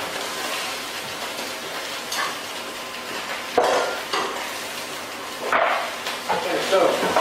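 Sausages sizzle steadily in a hot frying pan while they are sealed, with occasional louder bursts of spitting fat and utensil scrapes against the pan, close and continuous.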